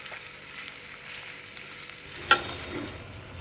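Ridge gourd peel, tomatoes, garlic and tamarind fry in a pan with a soft, steady sizzle, plus one sharp clink of a utensil against the pan.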